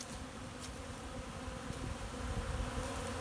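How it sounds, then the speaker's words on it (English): A dense swarm of honeybees drones continuously around the hives, a close, steady buzz with occasional individual bees zipping past the microphone, no talking. "Bees, bees everywhere."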